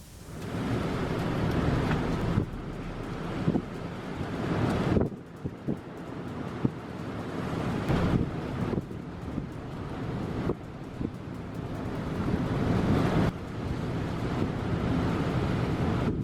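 Fierce winds and giant waves in a storm make a loud, continuous roar of gusting wind and crashing surf, with rumbling surges and no voices.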